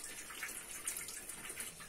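Water pours from burst pipes in an apartment, a faint, continuous rushing spatter heard at a distance with no voices.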